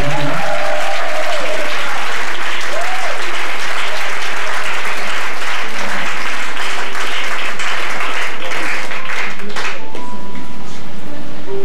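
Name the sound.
congregation applauding the Lord in church service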